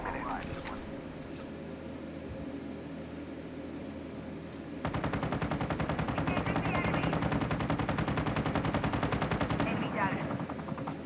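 Rapid bursts of automatic gunfire from a video game, loud and continuous in the second half, with talk over the earlier quieter stretch.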